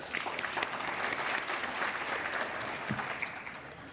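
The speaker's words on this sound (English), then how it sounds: "Let's give our sponsor another round of applause." A fairly quiet round of audience applause for a sponsor at an awards ceremony, with dense clapping throughout that fades slightly toward the end.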